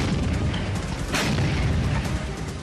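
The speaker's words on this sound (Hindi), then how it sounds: "और इस करिश्मे का नाम है धनुष तोप।" Dhanush artillery gun (towed howitzer) fires, a loud broadband boom near the middle of the clip over a steady rumbling, blast-heavy background.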